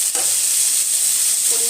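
Ridge gourd and potato fry in a pan with a loud, dense, unbroken sizzle. Brief spoon scrapes near the start and end mark the stirring.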